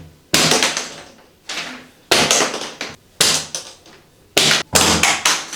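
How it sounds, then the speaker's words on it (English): Plastic tile leveling clips are kicked out along a fresh bathroom tile joint, giving a series of sharp, loud snapping cracks in irregular bursts, several in close pairs, each decaying quickly, with no talking. "It's easy now to just kick these out. You can relieve stress just by kicking these out like this."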